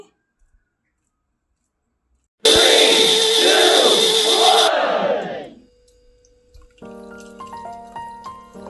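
Mixer grinder blending banana pieces with milk and sugar for banana ice cream, a loud whirring burst of about two seconds that winds down, followed by clattering sounds.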